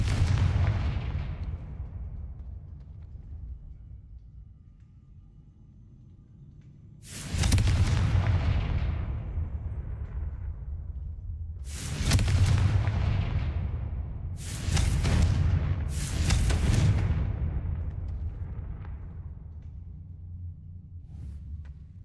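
Confringo fire spell explosions in the video game Hogwarts Legacy hit as four heavy booming blasts, each fading into a long rumble. One comes alone, then three arrive in quick succession, loud and near, with no talking.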